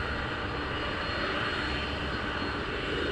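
F-15 fighter jets departing RAF Lakenheath, a continuous thunderous roar from the air base with no voices, steady and dense throughout.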